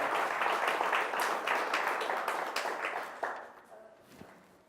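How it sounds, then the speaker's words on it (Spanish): Applause from a church congregation during a Spanish-language service, a dense wash of clapping that holds for about three seconds and then fades out, leaving a few scattered sounds. "Démosle un aplauso al Rey."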